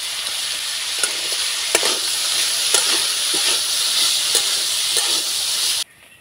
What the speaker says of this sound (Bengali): সব সবজিগুলোকে আমি নাড়াচাড়া করে ভেজে নিয়েছি।